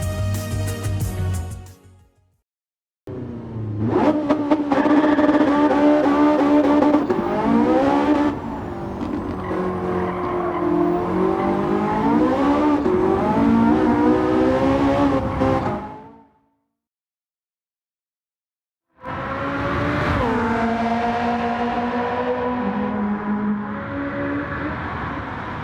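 A Porsche 918 Spider in Gran Turismo 7 roars through rising, falling engine revs with gear changes and tire squeal, loud and close, broken by two short silent gaps before the engine returns.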